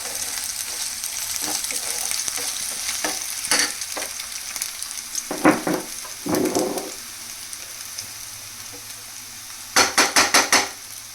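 Onion, ginger, garlic and green chili paste frying in a pan, a steady close sizzle with occasional spoon scrapes and stirring, then a quick burst of four metallic taps near the end.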